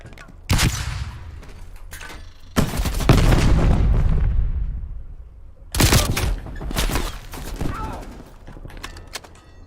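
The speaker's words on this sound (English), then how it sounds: "Using flashbang." A flashbang grenade detonates in Call of Duty Black Ops Cold War multiplayer: loud, close blasts with booming tails, followed by another burst and scattered gunfire-like cracks.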